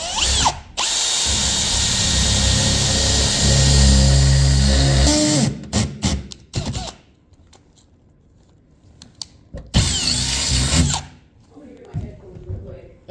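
Power tool cutting metal to open an RV roof for a MaxxAir fan installation: loud sustained grinding-buzz for several seconds, then short bursts and stops, with people talking between cuts.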